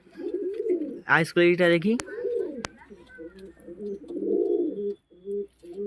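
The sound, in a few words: pigeon cooing, Fulshira line female pigeon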